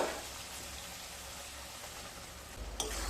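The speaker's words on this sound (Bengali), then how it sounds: "এবার ভেজে রাখা আলুগুলোকে দিয়ে দেব" Fried potatoes sautéing with spices in a pan, a soft, steady sizzle heard close, ending in a brief stirring clatter.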